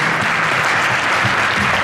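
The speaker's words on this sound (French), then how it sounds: "On peut les applaudir aussi, bien sûr." Audience applauds hostesses at a TV charity evening event, dense steady clapping from many hands, loud and continuous throughout the short moment.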